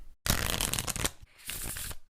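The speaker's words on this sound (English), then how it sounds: "The player right of the dealer will shuffle the cards." A 40-card deck being shuffled by hand for a game of Sueca, two bursts of crisp riffling and flapping cards separated by a short pause, close and clear.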